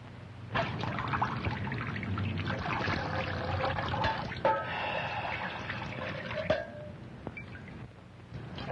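Water trickles and pours steadily for a drink, a fairly close liquid stream running for several seconds with small splashes and a brief snort-like sound.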